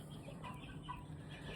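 Chickens in a brooder barn on a small farm with rabbits and ducks give a few faint, scattered clucks against a steady background hum, distant and quiet.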